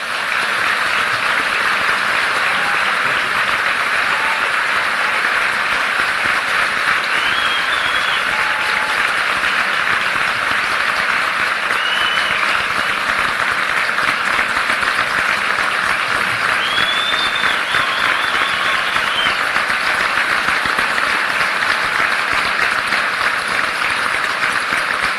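A large commencement audience gives a welcoming ovation to the graduation speaker, sustained loud applause that continues unbroken for about twenty-five seconds, with occasional faint whistles over the clapping.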